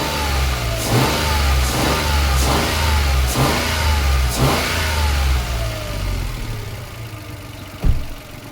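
A 2015 Mitsubishi Mirage engine revs repeatedly in a steady rhythm of about six close, loud bursts, each rising and falling back to idle, with one final short rev.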